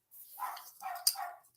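Dogs barking indoors while a woman is out in the garage, a few short yelping barks heard at moderate distance, close to one another, with a sharper bark near the middle.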